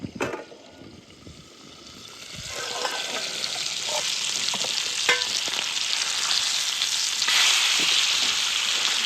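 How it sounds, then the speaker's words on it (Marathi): Bangda mackerel fish fry in oil in a pan over a low flame, giving a close, steady sizzle that builds after a quieter start and holds on, with occasional stirring clinks. "बारीक जाळावर मी तळून घेणार आहे ती."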